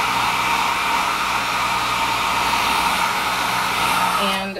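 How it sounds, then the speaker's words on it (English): A hair dryer on regular heat blows over a craft storyboard coated with sealer, giving a loud, steady whooshing roar that runs nearly unbroken before cutting off at the very end. "you can just go ahead and hit it with regular heat"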